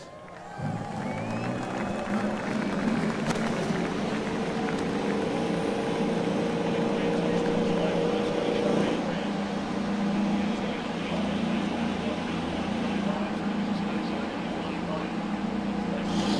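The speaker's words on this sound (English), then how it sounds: "Drivers, start your engines." IndyCar race car engines fire up together on the starting grid at Circuit of the Americas for the 2019 IndyCar Classic, a sudden loud burst settling into a dense, sustained roar of idling engines with crowd noise and a voice over the top.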